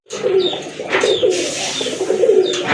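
Domestic pigeons cooing close by, a series of low throaty rolling coos repeating over a soft chirpy background.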